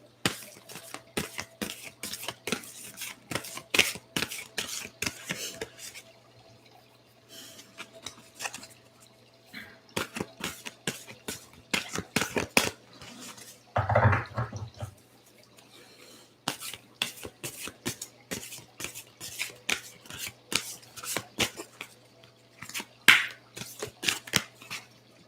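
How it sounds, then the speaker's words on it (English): Oracle cards shuffled by hand in a quiet room, a steady run of crisp, close riffling and flicking bursts with short pauses, one louder thump midway and a faint steady hum beneath. "So let's shuffle them a bit."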